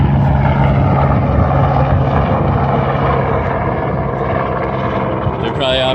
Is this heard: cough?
no